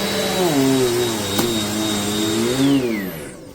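An Amazon Basics upright bagless vacuum cleaner for carpet and hard floors runs steadily with a loud, close motor whine whose pitch dips and rises slightly as it works, with no talking.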